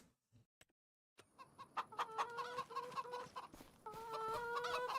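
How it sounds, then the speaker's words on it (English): Chickens in the Farm Simulator video game, on a Scottish Highlands map, cluck in a busy overlapping chorus after a few faint clicks, steady and fairly close with no talking. "Lots of chickens."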